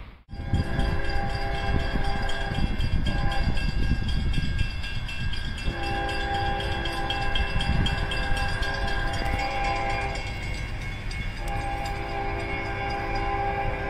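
CSX freight train rolling past on the Columbia subdivision near Fairfax, a loud continuous rumble of wheels and cars with strong sustained tonal squeals and ringing, no talk.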